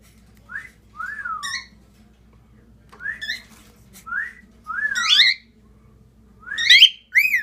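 A very old pet cockatiel whistles in short rising and falling phrases, repeated several times with brief pauses, close and clear over a faint low background hum.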